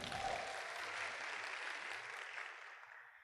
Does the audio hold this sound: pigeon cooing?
no